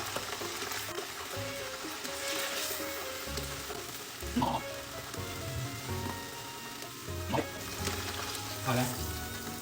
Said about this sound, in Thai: ดูที่ว่าจะทอดนะ อันนี้คือมันฝรั่งเอ้ย หัวหอมทอด